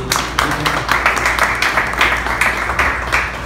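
Steady applause from a gathered audience at a World Malaria Day ceremony in Haiti, loud and close, with quick overlapping claps pulsing evenly through the whole stretch.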